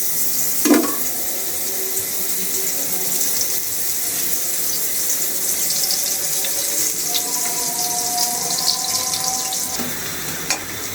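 Chopped onions go into hot oil in a pan after prawns, for a prawn and egg noodle dish. They land with a sudden sizzle, then fry with a steady hiss under faint clinks and stirring scrapes.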